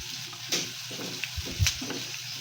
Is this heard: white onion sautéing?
yes